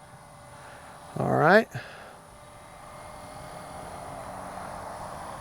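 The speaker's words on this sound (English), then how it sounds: "Just trying to keep the plane level." A radio-controlled model airplane's engine and propeller drone faintly and steadily in the distance, swelling slightly over time, while someone speaks briefly near the start.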